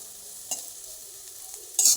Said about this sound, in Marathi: दोन मिनटासाठी असं हलवत राहायचं